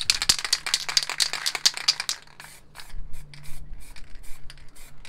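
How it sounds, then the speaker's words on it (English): An MTN Hardcore high-pressure spray paint can rattles and hisses in a series of short bursts, then softer scraping and rubbing sounds follow, close and unaccompanied. "with the high pressure spray cans, the valve systems, it pushes the paint out a lot faster"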